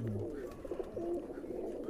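Pigeons coo in a teddy pigeon loft with a low, steady murmur of calls running through the whole stretch, close and fairly continuous against a soft background hum.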